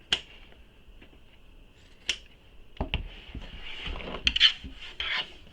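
Scissors trim fabric seams on a sewn tote bag, a few sharp close snips and brief scraping cuts against cloth, set over a faint steady high hum.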